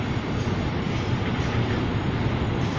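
A long freight train's cars roll past outdoors while gathering speed, a steady dense rumble and rattle that fills the whole stretch, close and loud with no pauses.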